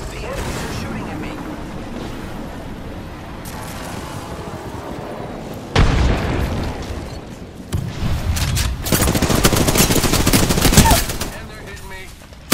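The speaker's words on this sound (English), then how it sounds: "The enemies are shooting at me." Enemy gunfire in the video game Apex Legends: bursts of automatic fire and single shots come in uneven volleys, growing louder and denser toward the end, with a player talking over them.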